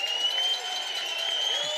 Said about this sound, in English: Listen to that Salve crowd getting into it.